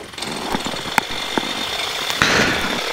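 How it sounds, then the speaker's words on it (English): A Raptor gyroplane engine warms up on the ground, giving a steady mechanical buzz with a few sharp clicks and knocks, close and fairly loud, with no talking. "Just trying to get the engine warm today."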